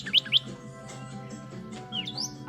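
Northern cardinal chirping outdoors near trees, two sharp clear chirps early, then a quieter pause and a further rising-falling call, fairly close over faint background hum.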